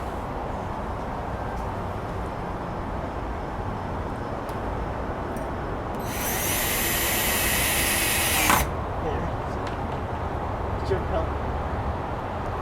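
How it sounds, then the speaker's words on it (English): A power drill whirs for about two and a half seconds in the middle, fairly close, while mounting a Westinghouse 2000-lumen triple-head solar security light, amid faint background noise and quiet handling sounds. "So I'm just gonna drill here so it won't go down."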